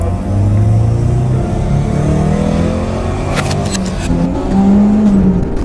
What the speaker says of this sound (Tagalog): The sound, the smooth gear change, the jolting when you step on the gas in low gears, it plays tricks on you.